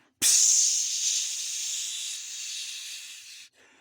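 Gas sprays hard out of a tank in a horror film, a loud, steady hiss that bursts on abruptly, holds for about three seconds while fading slightly, then cuts off.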